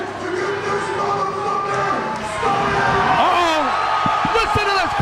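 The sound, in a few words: wrestling crowd at a cage of death match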